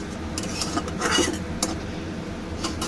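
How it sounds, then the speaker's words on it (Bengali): Spice paste for doi ilish being stirred and sautéed in a pan, with a spoon scraping and clinking against the metal in steady strokes over a soft sizzle, close by and moderately loud with no talk. "এই যে মশলাটা আমি একটু ভালো করে কষাবো।"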